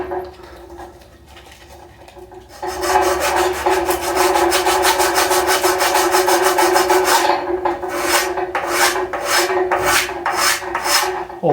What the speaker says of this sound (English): Sanded right through the powder.